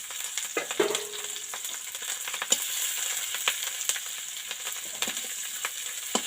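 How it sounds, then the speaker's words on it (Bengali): Onions and green chillies fry in hot oil in a wok, giving a steady close sizzle with occasional utensil clinks and scrapes throughout, and no voices. "দেওয়ার পরে পেঁয়াজগুলো দিয়ে দেবো। পেঁয়াজ লঙ্কা কাঁচা লঙ্কা দিয়ে দেবো।"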